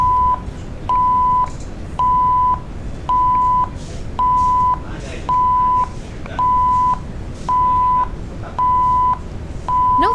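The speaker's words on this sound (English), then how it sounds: "We can also hear the alarm sound from the simulator." A PCB test simulator sounds an alarm: a steady, repeating electronic beep, about one short tone per second, ten in a row, loud and clear over low background hum.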